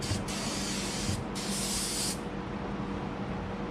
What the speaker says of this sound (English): the way I clean out this pan is I get some brake cleaner